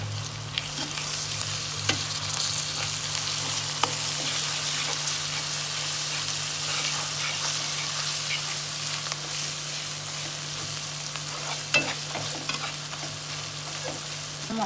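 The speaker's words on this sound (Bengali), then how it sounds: "একটু আমি হলুদ দেব, হলুদ বাটা, মরিচের গুঁড়া, এটা হলো লাল মরিচের গুঁড়া, তারপরে দেবো একটু আদা বাটা। এখন আমি ভালোভাবে একটু কষিয়ে নেব।" Turmeric paste, red chili powder and ginger paste fry in oil for a fish curry, giving a steady, close sizzle with stirring scrapes throughout and no voices.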